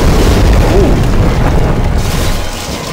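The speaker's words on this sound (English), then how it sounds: "What about this firebomb thing?" A firebomb explodes in the Demon's Souls video game with a loud, sustained booming blast and a deep roaring rumble that slowly fades over a few seconds.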